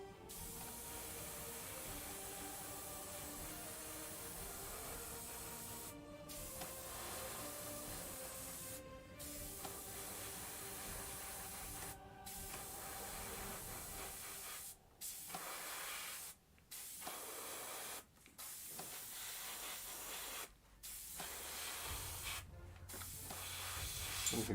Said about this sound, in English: Something kind of relaxing about using the airbrush.